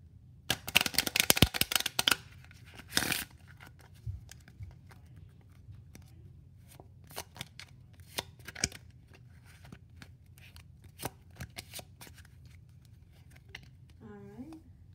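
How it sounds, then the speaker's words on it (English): A deck of playing cards is shuffled close up in a card magic trick, giving a dense riffling burst near the start and another brief riffle about three seconds in, followed by scattered soft card handling ticks and taps in a quiet room. "So now I'm going to shuffle the deck."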